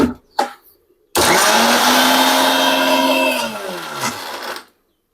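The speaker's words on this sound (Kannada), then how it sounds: "ಈಗ ಮಿಕ್ಸಿ ಹಾಕ್ತಿದ್ದಾರೆ ಗೈಸ್" A kitchen mixie grinder blends masala in a steady, loud whir for about three and a half seconds, its pitch sliding down as it slows, then a brief second burst before stopping; short knocks come before it starts.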